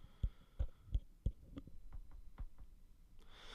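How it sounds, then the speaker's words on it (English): Handling noise from a Senal MC 24 ES XLR microphone: a series of soft, close thumps and bumps, several heavier knocks early on and lighter taps after, ending in a brief rustle, with no talking. "this is also going to do a great job at showing us the handling noise to expect out of the microphone"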